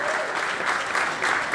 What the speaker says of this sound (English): Give a big round of applause, everybody.